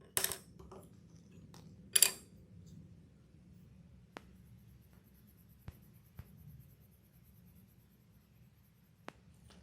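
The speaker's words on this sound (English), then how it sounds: "make sure that you quickly adjust the pressure that you are using with your pencil" A pencil shades on paper in a quiet room, with a couple of louder scratchy bursts early on. Faint rubbing and occasional sharp light ticks follow, sparse and close.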